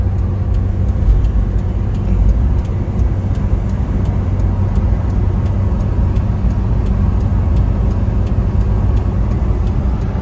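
A 1996 Toyota Kijang Grand Extra cruising on a toll road between Solo and Semarang at about 90 km/h, with a steady, loud engine and road drone plus wind rush that holds constant throughout.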